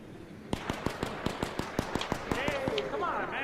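Rapid, evenly spaced gunshots from the shooter game ARC Raiders crack out about a dozen times in a steady rhythm, loud and close, with a rising whine and faint voices toward the end.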